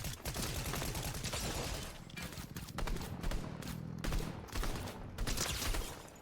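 Gunfire from a shooter video game, Marvel Rivals or Fortnite, with sniper rifles in play, comes as dense rapid volleys and scattered shots throughout.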